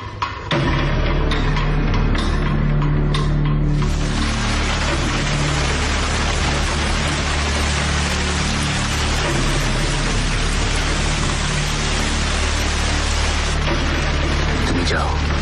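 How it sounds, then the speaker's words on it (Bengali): Heavy rain pours down in a dense, loud, continuous roar after a brief quieter opening with a few spattering drops, filling the whole scene with steady wash. "অনেক বৃষ্টি, ভিজে যাব।"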